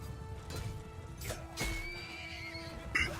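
A horse neighs in the video game Mount & Blade II: Bannerlord, with whinnies rising amid battle noise and a few thuds and impacts, moderately close over a busy background.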